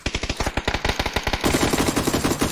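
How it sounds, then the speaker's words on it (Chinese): Machine gun fire in a shooter video game, a rapid burst of evenly spaced loud shots followed by a denser, slightly muffled stream of automatic fire, close and dominant with no speech. "开枪了，倒了。"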